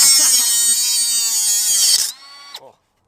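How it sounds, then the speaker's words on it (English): A whiz wheel cut-off tool grinds through the threads of a ball joint on a Crown Victoria, a loud, close, high-pitched whine held steady for two seconds, then spinning down with a short final blip. "Justin's got the whiz wheel."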